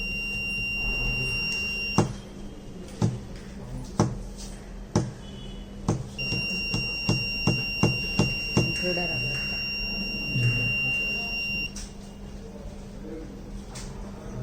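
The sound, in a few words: sensor buzzer alert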